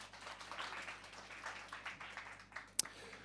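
Faint, scattered clapping from a conference audience at a startup demo semifinal, sparse and distant with a single sharp louder clap near the end.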